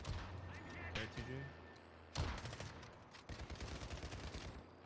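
Gunfire in the battle royale game PUBG, sharp bursts and rapid strings of shots at varying distances, with people talking over the action.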